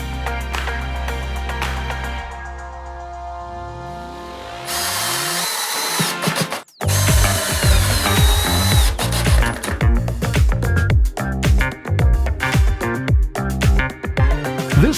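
A power drill drives screws through a template into a 2x4 at six spots while building a vacuum forming machine. A steady whine gives way to loud, repeated bursts of rising motor pitch, close and with no talk.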